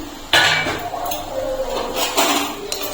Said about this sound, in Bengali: ঢাকাটা খুলে নিচ্ছি।